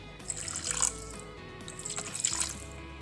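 Bottled water poured into a Thermomix bowl, a steady splashing stream that runs throughout and rises in brightness toward the end, with no talk.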